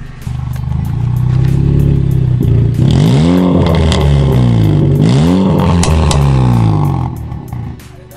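A 2018 Honda Brio Satya 1.2 manual car engine revs up hard twice in sweeping rises and falls, loud and close, with faint pops and crackles between the revs and no talking.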